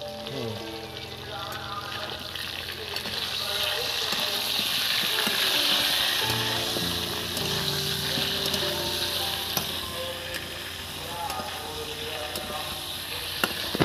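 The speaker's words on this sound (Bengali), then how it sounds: "ফুলকপি আলু একসঙ্গে ভাজা হচ্ছে বন্ধুরা" Cauliflower and potato fry in a pan with a steady, close sizzle and crackle throughout, occasional stirring scrapes and clinks on top.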